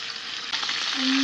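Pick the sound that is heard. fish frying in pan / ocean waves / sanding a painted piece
fish frying in pan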